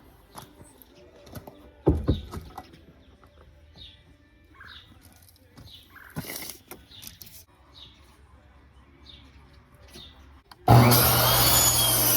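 Lumber for greenhouse shed studs is cut outdoors. Intermittent wooden knocks and scrapes mix with scattered birdsong, then a loud, steady saw roar takes over for the final second or so.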